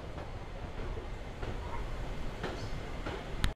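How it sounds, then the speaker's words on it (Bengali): The Hazarduari Express pulls out of Kolkata station with a steady low rolling rumble and faint wheel clicks, ending in a brief sharp knock close by. "সঠিক সময় আমাদের ট্রেন ছেড়ে দিল"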